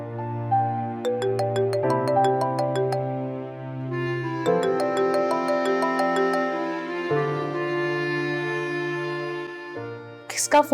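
A melodic electronic ringtone plays steadily on its own, repeating a bright tune of stacked tones with no voices, ending in a few sharp clicks.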